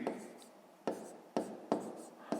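A pen or pencil writes numbers by hand on paper in a math lesson, heard as close, soft scratching strokes in short repeated bursts at a quiet level.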